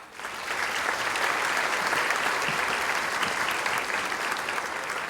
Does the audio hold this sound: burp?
no